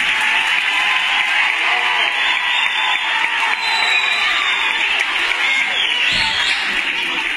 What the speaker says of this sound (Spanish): quiero que estéis además muy pendientes de esta interpretación, pero que además le deis la bienvenida con un aplauso